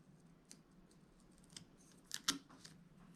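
Scissors snip through printable planner paper in a quiet indoor setting, giving a few faint cuts before two sharper, closer snips near the end, with no talk.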